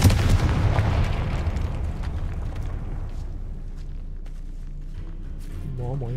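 A Confringo spell explosion in the video game Hogwarts Legacy: a loud, close booming blast at the start that rumbles and fades away, followed by quieter game sounds.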